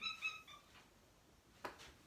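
A pet cat meows indoors, a short cluster of harmonic cries at the start followed by a fainter sound later, near and fairly quiet with no talk.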